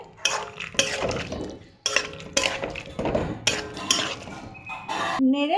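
A spoon scrapes and knocks rhythmically around a pan as cauliflower with turmeric is stirred while cooking a fish curry, a run of close metallic clanks and scrapes in repeated bursts.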